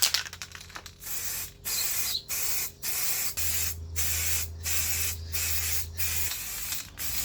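Rust converter sprayed from a can onto Mini Cooper parts in a series of short, close hissing bursts separated by brief pauses, with a low hum underneath and no voices.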